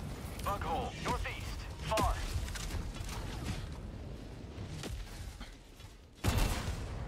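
Gunfire in a video game battle against bots: scattered bursts of shots and mechanical clanks at moderate distance, with a louder blast near the end, under quiet game sounds.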